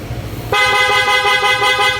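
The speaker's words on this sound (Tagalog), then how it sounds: "Dito natin nilagay yung switching niya para sa loud horn." PIAA loud horn fitted to a Honda PCX 160 scooter blares in one sustained, loud, bright tone that starts abruptly after a low idling rumble and holds steady to the end.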